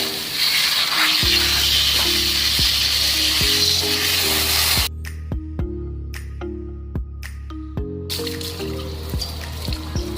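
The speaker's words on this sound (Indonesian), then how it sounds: "kita menggunakan semprotan dengan selang supaya daya semprotnya semakin kencang" Pesticide sprayed from a garden hose onto plants, a loud, steady hissing spray that stops partway through and then resumes, with soft background music running underneath.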